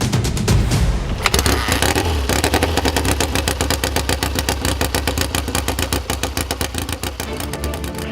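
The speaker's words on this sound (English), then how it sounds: "Listen to that biker Trickett out the gate, what a sound" A twin-cylinder dirt bike engine roars out of the starting gate in a race, loud and sustained with a rapid throbbing beat and a brief rise as it pulls away.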